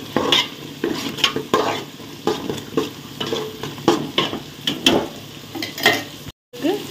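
Masala for prawn biryani bubbling and sizzling in a pot, with repeated stirring scrapes and clinks close up, steady and moderately loud, with no talking.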